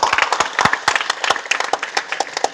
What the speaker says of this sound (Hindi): ताली मार दो बच्चे कैसे।